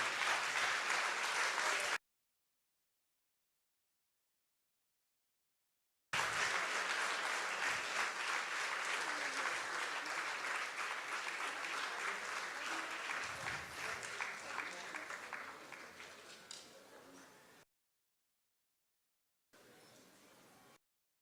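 Sustained applause from an audience at a foundation day cultural programme, dense and steady, then tapering off, broken by sudden silent gaps.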